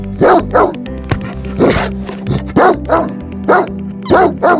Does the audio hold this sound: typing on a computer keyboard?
no